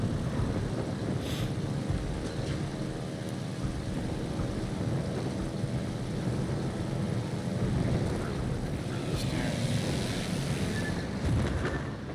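Enemy carrier aircraft attacking in a naval combat video game, a continuous loud rumbling drone of engines and distant explosions filling the mix, with no talk.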